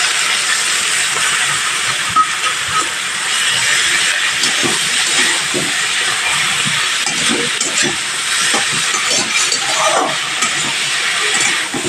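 Loud, continuous sizzling hiss of mixed leafy greens frying in hot oil, with occasional faint clinks, close up and steady throughout.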